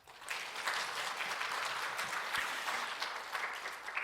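Church congregation applauding the teachers at a next-generation revival service, steady crowd clapping that starts abruptly and continues evenly at moderate distance, fairly quiet in the room.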